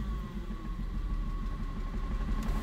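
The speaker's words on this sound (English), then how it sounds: "The engine revs nice and smooth." Steady idle of a Ford Mustang SN95 V6 3.8L engine with a fuel pressure problem, a continuous low rumble with a faint steady whine, running evenly and close by with no voices.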